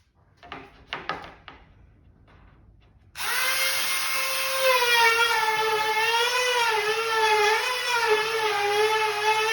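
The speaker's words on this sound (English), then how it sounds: "Little Black & Decker rotary tool." A small Black & Decker rotary tool starts up after a few seconds of scattered knocks and handling noises, then runs steadily with a loud, high, slightly wavering whine for the rest of the time, with no talking.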